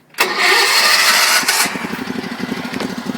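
A Sears SS16 garden tractor engine cranks over cold with no choke or throttle, catching at once with a loud roar, then settling into a steady, rough, pulsing idle close by.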